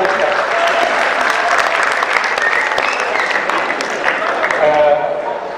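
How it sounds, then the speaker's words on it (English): An audience breaks into sustained applause, a dense wash of clapping from many hands that fades slightly toward the end. "we need to give them a round of applause"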